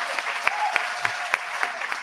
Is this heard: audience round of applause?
yes